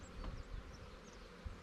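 Agitated honeybees buzz around an opened beehive during an inspection. The sound is a faint, steady, diffuse hum with a few soft thumps and rustles, and no voices.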